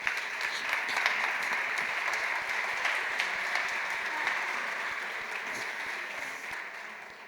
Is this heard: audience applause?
yes